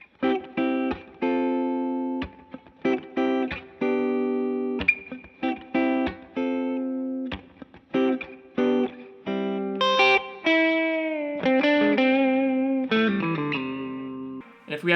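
Electric guitar with P90 pickups on the middle pickup setting, played as a string of strummed chords and picked single notes with pauses between phrases, clear and moderately loud, ending in a faster melodic run.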